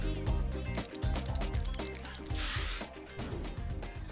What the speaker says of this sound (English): I'll spray paint the wall.